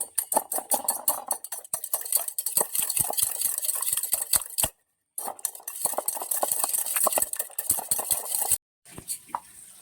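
Four eggs whisked with a pinch of salt in a bowl, rapid rhythmic clicking and tapping of utensil against the bowl, close and loud, with two brief pauses.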